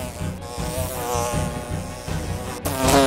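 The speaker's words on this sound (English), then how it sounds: "There was a bee!" A bee buzzes loudly and close in a comedy film scene, a steady droning whine with music underneath, rising near the end.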